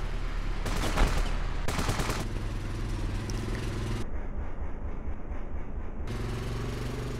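Patriot rifle fire in the game Ravenfield rattles in rapid bursts over a dense, continuous battlefield din, loud and close, with the texture shifting in the last few seconds.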